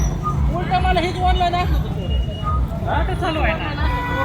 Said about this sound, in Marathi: बाजार दिवशी या व्यापाऱ्यांमुळे ही वाहतूक कोंडी होत आहे